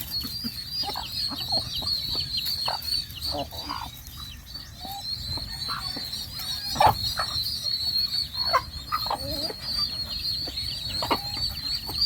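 Chickens and other fowl on a rural farm cluck and gobble in a busy, overlapping chorus, close and fairly loud, with scattered calls across a constant high buzz of insects or birds.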